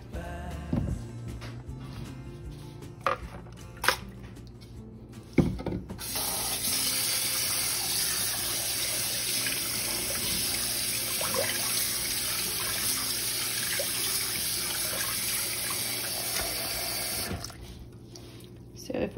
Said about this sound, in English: I'm just gonna rinse it completely off with water. So I usually just put it through the strainer to rinse it off.